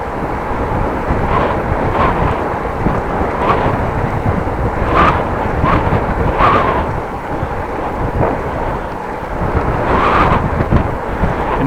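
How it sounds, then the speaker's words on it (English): Strong headwind buffets the microphone of a bike rider on a trail: a loud, constant low roar with gusty surges, close and continuous, and no speech. "now I do have a little bit of headwind because I changed direction"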